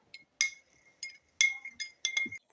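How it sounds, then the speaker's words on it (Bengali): A metal spoon stirs hair oil in a glass jar, producing a handful of bright, close, irregular clinks against the glass with quiet pauses between them. "এটাই এখন চামচ দিয়ে মেশাবো।"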